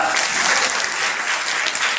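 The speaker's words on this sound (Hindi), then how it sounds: "तो एक बार खुशी की ताली बजा सकते हैं क्या?" A seated audience at a Hindi-language motivational talk claps together on request, a dense, steady, loud wash of applause from start to finish.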